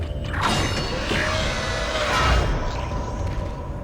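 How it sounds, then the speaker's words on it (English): A heavy door in the Dead Space video game grinds and creaks open over a low mechanical rumble, with a rising, screech-like whine that goes on for about four seconds at close, loud range. "And the door sounds like it's screaming."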